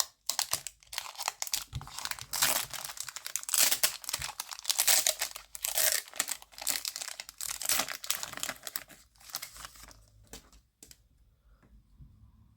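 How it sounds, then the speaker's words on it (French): The foil wrapper of a Pokémon Origine Perdue booster pack is torn and crinkled open, giving dense, close crackling and ripping sounds that run for around ten seconds before going quiet. "let's go pour ouvrir le troisième booster"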